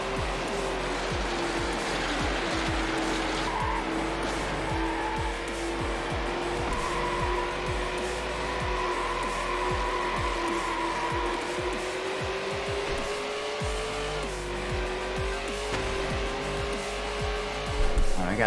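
A Lamborghini Murcielago V12 racing in Need For Speed Hot Pursuit 2, its engine droning steadily with shifting pitch and occasional tire noise over a long stretch, with someone talking over it.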